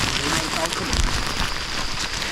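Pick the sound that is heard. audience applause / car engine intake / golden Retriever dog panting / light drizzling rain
light drizzling rain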